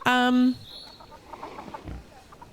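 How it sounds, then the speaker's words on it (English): Cartoonish chickens in the zoo-building video game Planet Zoo give a loud, brief cluck right at the start, followed by quieter scattered clucking and game ambience. "Hello, chickens."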